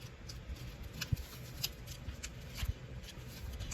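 Origami paper being creased and folded into a frog, a few soft crinkling rustles and light taps close by, quiet and alone.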